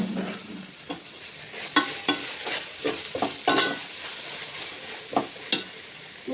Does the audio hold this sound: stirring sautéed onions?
yes